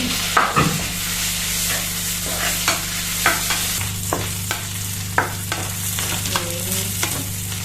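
Garlic frying in a pan, with a steady sizzle under repeated sharp clinks and scrapes of a spatula stirring at close range, over a low constant hum.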